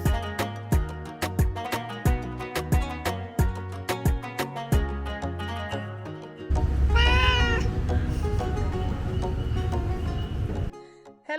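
A small hotel kitten named Toby gives a clear, close meow partway through. Rhythmic music with a steady, thumping beat plays before and under the cry.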